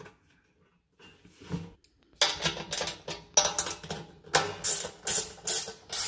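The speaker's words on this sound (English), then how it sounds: "My 7/16 box end does have a ratchet on the end." A 7/16 ratcheting box-end wrench tightens bolts during assembly of a maple syrup evaporator, giving bursts of rapid metallic clicking strokes in a steady back-and-forth rhythm, close and fairly loud after a quiet start.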